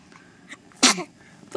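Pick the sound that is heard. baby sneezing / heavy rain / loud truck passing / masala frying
baby sneezing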